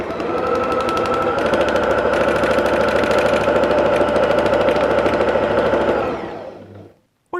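A sewing machine runs steadily at speed while free-motion quilting a feather pattern, loud and continuous for about six seconds before slowing and stopping.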